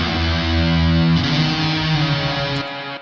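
Distorted electric guitar chords ring out with a delay effect panned right, the repeats blending into the sustain before the sound cuts off near the end, with no talking.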